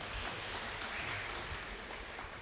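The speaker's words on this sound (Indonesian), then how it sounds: "kita beri aplaus deh untuk mereka" Applause from a Sunday evening church congregation thanking parents, a steady, even wash of clapping that fills the whole moment at moderate distance with no voices over it.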